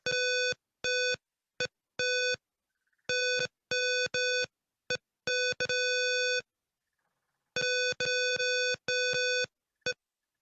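Simulated electronic alarm from a password-based lock system beeps in bursts, each a clear harmonic tone, grouped in quick irregular clusters with short silent gaps, loud and close.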